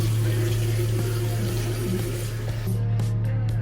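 Tap water runs steadily into a sink during an evening skincare routine, a constant gushing hiss over a low hum. It breaks into short stuttering gaps near the end, with no talking.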